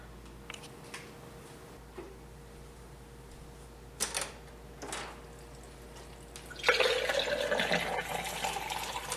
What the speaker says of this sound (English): So now we fill with water.